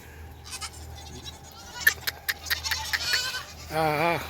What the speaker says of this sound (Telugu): గొర్రెలు చూడు ఎన్ని ఉన్నాయి.